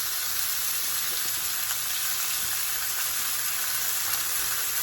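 Thinly sliced cheesesteak meat frying in a hot pan, a loud, steady sizzle and hiss that holds without a break from start to finish.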